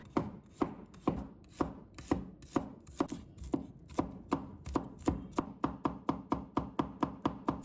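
Garlic cloves minced with a kitchen knife on a cutting board, a steady run of crisp, close chopping taps that starts uneven and settles into a fast, regular rhythm, with no talking.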